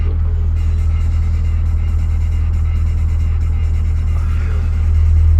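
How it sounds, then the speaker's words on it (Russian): Loud, steady low engine rumble of a tractor driving nearby, a constant droning hum that swells slightly toward the end, with no talking. "Да, трактор там едет"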